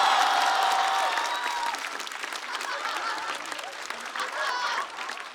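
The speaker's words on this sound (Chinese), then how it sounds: "掌声再次送给阿水。" A studio audience at a stand-up comedy competition applauds a comedian, a loud sustained wash of clapping that slowly fades, with faint cheers and voices mixed in.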